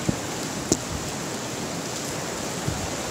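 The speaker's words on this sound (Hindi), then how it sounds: "यहाँ पर इतनी जोर की अचानक से बारिश हो रही है, इतनी हवा आ रही है" Sudden heavy rain pours down steadily with strong wind during Cyclone Tauktae, a dense, continuous hiss close by, with a couple of faint knocks.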